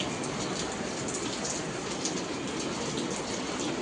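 Morning rain pouring down steadily on a livestock farm during cow milking, a dense, even hiss filling the whole moment with no voices.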